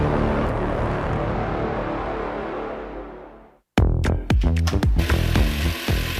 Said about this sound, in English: Make light work lighter and quicker with Switch technology from Axie Power Tools.